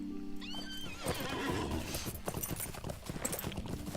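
Horse ridden in the video game LOTRO, a whinny at the start followed by rapid galloping hoofbeats, close and steady, with faint game ambience.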